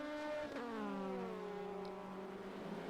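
Racing car engines from a sim racing game, a BMW M6 GT3 among GT3 cars, hold a loud steady drone with rising and falling harmonics, one gear change early, then a sustained pull as cars run nose to tail.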